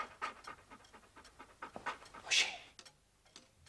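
A dog pants in quick, rhythmic breaths close by, fairly faint, with a brief louder whimpering burst midway and a single spoken word.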